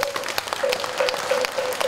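Audience applause at a Buddhist ceremony installing the head of the Korean Taego Buddhist order, with steady dense clapping from a crowd at moderate distance and a faint sustained tone running underneath.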